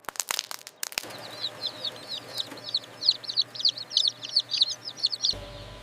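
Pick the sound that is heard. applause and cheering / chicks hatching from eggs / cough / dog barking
chicks hatching from eggs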